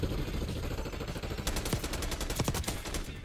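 AK-47 automatic fire in Black Ops 6, a rapid, steady stream of shots that sharpens into distinct cracking bursts partway through, loud and continuous.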